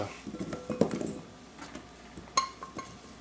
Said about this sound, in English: just kind of put them in another pan here